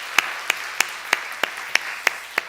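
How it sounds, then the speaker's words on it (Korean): A church congregation at a Holy Week evening prayer service claps in encouragement of the men's fellowship group, eight sharp, evenly spaced claps in a steady rhythm, close and clear. "다시 한번 뜨겁게 박수로 격려합니다"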